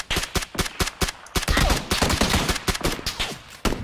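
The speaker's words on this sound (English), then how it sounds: "Oh, someone else is shooting." Enemy gunfire in the video game PUBG, rapid sharp repeated shots in quick bursts, loud and close, with a few overlapping volleys and no talking.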